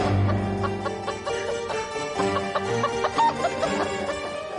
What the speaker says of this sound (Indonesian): Suara ayam dari mana tuh?